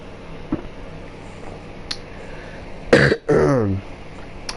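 A man with a cold and a dry throat gives a small cough, then clears his throat twice, harshly and close to the microphone, over a quiet background.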